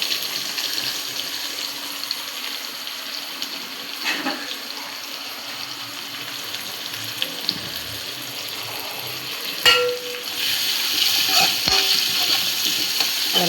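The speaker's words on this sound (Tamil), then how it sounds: "வெங்காயம் நல்லா வதக்கணும்." Onions sautéing in a pan make a steady, close, broadband sizzling hiss with a few sharp clicks and pops. The sizzle swells louder toward the end.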